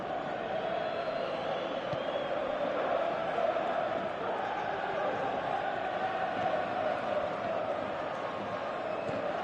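Stadium crowd in the PES 2018 football video game, a steady dense roar of many voices murmuring and swelling, continuous and fairly loud throughout.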